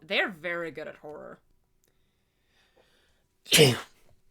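A single sharp sneeze bursts out after a short stretch of speech and a pause, loud and close.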